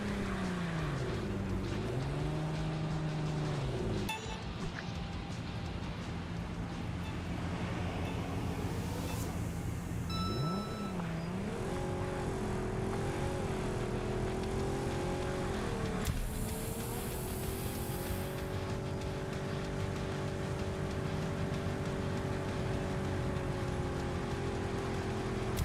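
An American muscle car's engine in an off-road race video game revs and drops in pitch through repeated gear changes, loud and steady throughout, with brief shifts and climbs in tone.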